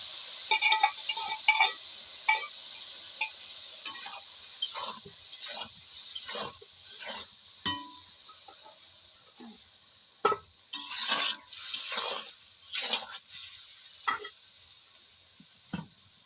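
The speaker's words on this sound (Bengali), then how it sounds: "বাগার দিয়ে দিলাম এখন" A spice tempering sizzles in a pot of jackfruit curry, a soft hiss that fades over time, broken by scattered clinks and scrapes of a utensil against the pot.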